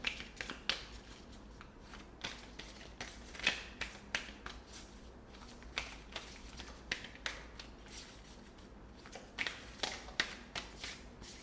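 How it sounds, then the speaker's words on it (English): Repeated soft riffling and slapping of tarot cards being shuffled by hand, in irregular bursts over several seconds, close and quiet. "it's a little bit hard to shuffle this way, so bear with me"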